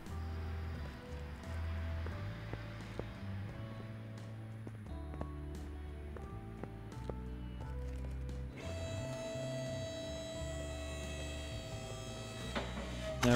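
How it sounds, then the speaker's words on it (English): A car lift in Car Mechanic Simulator 2018 hums mechanically at a low, steady level, shifting to a higher whining tone partway through as it raises the car. "Move car to lifter."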